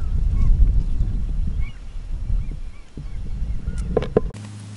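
Wild geese at a hunting camp honk repeatedly, several calls near and farther off over a low rumbling background, ending in a brief burst of noise.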